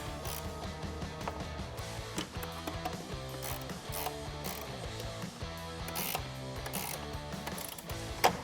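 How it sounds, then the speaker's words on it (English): A 10mm ratcheting wrench tightens a bracket bolt on a Jeep Wrangler JL 2.0L cold air intake, making close, crisp bursts of rapid ratchet clicks in short repeated strokes, with no speech. "I'm just gonna use a 10mm ratcheting wrench and tighten that up."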